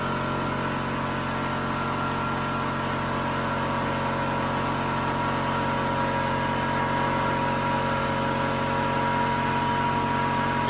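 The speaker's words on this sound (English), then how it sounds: "Compressor just kicked on, so it's going to be a little noisy." An air compressor in a workshop running beside a 2010 Ford F150 work truck, a steady loud mechanical drone with constant tonal hum that never lets up, nearby and alone.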